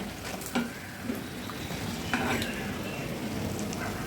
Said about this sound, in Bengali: এক পাশ ব্রাউন কালার হয়ে গেলে উল্টে দেব এবং পছন্দ মতো কালার আসা পর্যন্ত ভেজে নেব